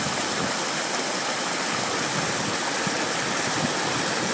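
River water rushes steadily in a broad, constant wash, a loud, close stream flowing without pause and with no voices over it.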